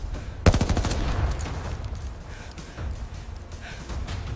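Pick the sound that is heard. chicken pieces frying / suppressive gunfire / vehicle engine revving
suppressive gunfire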